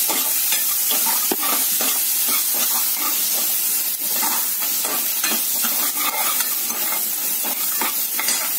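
Onions sauté in a pan for paneer palak. A loud, continuous sizzle and hiss sits close up, with frequent sharp clicks and scrapes as they are stirred and tossed, and no one speaks.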